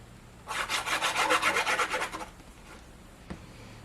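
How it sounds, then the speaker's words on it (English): Paper edges on a Carta Bella scrapbook folio burnished by hand, a rapid rhythmic rubbing and scraping that runs close for about two seconds, then stops into near quiet with one small knock. "I'm just mainly burnishing the edges"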